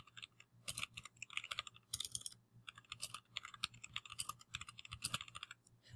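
Typing a page title on a computer keyboard, a close run of quick plastic key clicks in uneven bursts with brief pauses, no speech.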